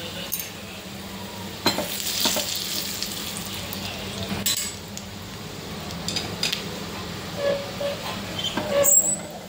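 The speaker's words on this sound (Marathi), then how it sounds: "आणि छान फोडणी तयार झालेली आहे।" Hot oil sizzles steadily with turmeric and red chili powder frying, broken by occasional clinks and stirring scrapes.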